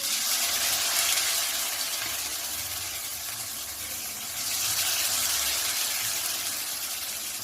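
Marinated potatoes frying one by one in hot mustard oil in a kadai, a steady loud hiss and sizzle that runs throughout and swells again toward the end, with no talking.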